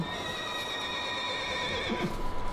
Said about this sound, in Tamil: குதிரை கத்துது